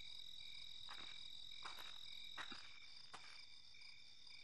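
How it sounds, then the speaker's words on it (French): Faint, repeated frog croaks in short bursts sit over a constant high chirping of insects or crickets, a quiet nighttime chorus in a French children's sound book. "c'est juste une grenouille"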